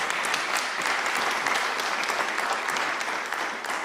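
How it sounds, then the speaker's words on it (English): Audience applause fills the room at a government press conference announcing funding, a dense, continuous wash of many hands clapping, steady and moderately loud throughout. "applause."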